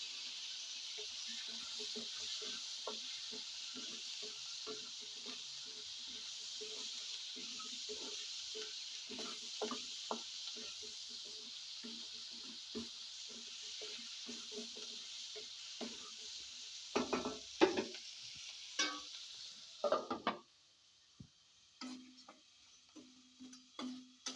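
Drumstick pieces and tomato pieces frying with onions in a pan for a curry, a steady close sizzle and hiss throughout with scattered stirring clatters and knocks, busier near the end before the frying settles quieter.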